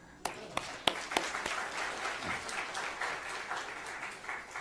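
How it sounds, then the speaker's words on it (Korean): Church retreat audience applauds a recently married couple standing to be recognized, a dense patter of clapping with a few sharp, distinct claps near the start, steady and moderately close for the whole stretch. "자, 박수 한번."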